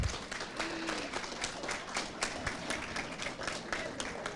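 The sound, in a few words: applause for Dr. Góngora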